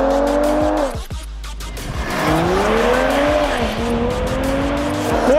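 Several cars launch hard at the start of a drag race, including an Audi A7, BMW M550d and Mercedes-AMG E53, their engines roaring up through the gears with tire squeal, the revs rising and dropping as they pull away loud and close.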